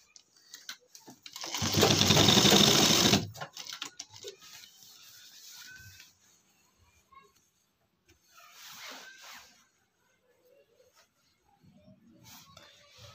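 A sewing machine stitches a pant belt for a size-32 waist in one loud, close burst of rapid stitching lasting about a second and a half, followed by quieter handling noises and brief softer mechanical bursts.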